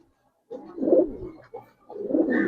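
Giribaz pigeons cooing close by in two soft, throaty bursts, separated by a brief pause.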